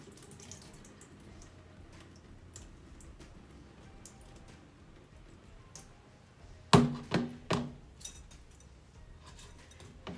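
Rice being washed and strained by hand under water, heard as soft, quiet sloshing with a few sharp close splashes and knocks near the end.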